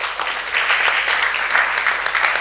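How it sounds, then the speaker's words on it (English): Audience applause at an inter-school debate on ECOWAS regional integration, a steady, fairly loud burst of many hands clapping throughout, with no speech over it. "Let's clap for him."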